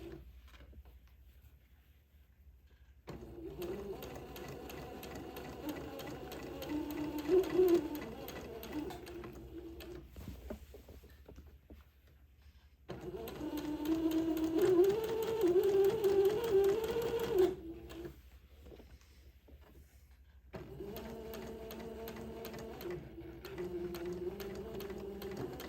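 A sewing machine stitches fabric for a Becca daygown in bursts of rapid, steady mechanical whirring, pausing twice between runs as the fabric is pivoted, close and fairly loud.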